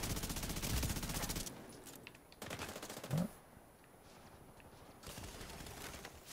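Gunfire in The Division 2 during a PvP skirmish match: rapid automatic bursts of shots, a loud stretch at the start, another burst midway and a final burst near the end, with quieter gaps between.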